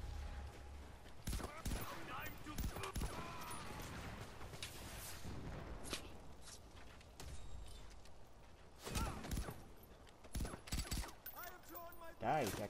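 Gunfire in the first-person shooter Far Cry 4, with repeated sharp shots and short bursts scattered through the clip over game ambience, the densest volleys coming near 9 and 12 seconds.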